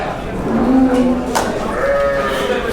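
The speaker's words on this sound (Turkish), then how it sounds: "Bir de başka koyunları var burada." Sheep bleat at a busy Balıkesir İvrindi livestock market, a couple of wavering calls rising over crowd chatter and general market noise, fairly close.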